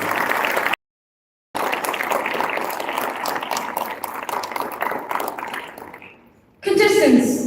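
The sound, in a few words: audience applause for contestants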